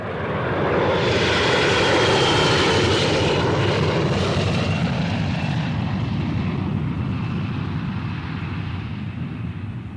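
A reconnaissance airplane flies low over a village, its loud engine roar filling the whole stretch and slowly fading and dropping in pitch as it passes away.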